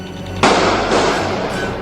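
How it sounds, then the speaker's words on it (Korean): A single sharp gunshot cracks out loud and close during an afternoon in Nairobi near a shopping mall under armed attack, its boom decaying into a long rumbling echo. "이 평화로운 오후에 정적을 깨는 총소리"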